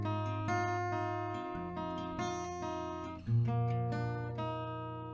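Acoustic guitar playing the melody of a song, sustained picked notes ringing over a steady low bass line, close and clear with no talking.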